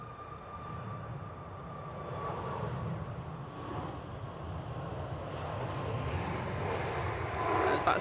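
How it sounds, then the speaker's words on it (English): Wamos Air airliner flying for Aer Lingus on final approach into Manchester Airport from JFK, a soft distant jet rumble slowly growing louder, with voices talking over it. "we've got plane on finals. It is. Oh, it's the WAMAS operating on behalf of Aer Lingus in from JFK"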